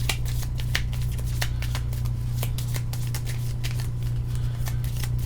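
A deck of cards for the Cthulhu: Death May Die board game is shuffled by hand, a rapid series of crisp riffling snaps over a low steady hum, close up with no talk.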